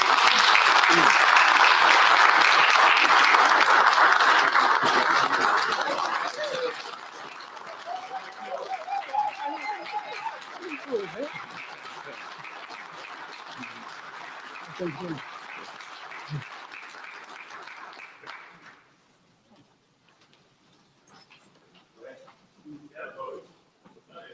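Loud crowd applause at a Southern University System Board of Supervisors meeting greets a coach, then thins to a few scattered claps with a voice speaking over it before fading to quiet.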